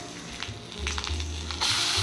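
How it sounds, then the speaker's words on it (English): Red and green chilies hit hot oil already seasoned with asafoetida for vermicelli upma, setting off a bright, steady sizzle that swells louder toward the end, heard close and alone. "Add the red green chili."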